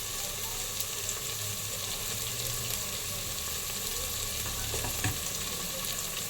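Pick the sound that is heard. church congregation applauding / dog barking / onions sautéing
onions sautéing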